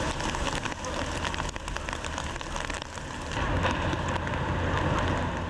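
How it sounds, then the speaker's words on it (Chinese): Heavy rain falls on Central, Hong Kong, during Tropical Storm Fanapi, a constant broadband wash mixed with gusty wind and a low background rumble, without speech. "喺中環下晝開始落起大雨"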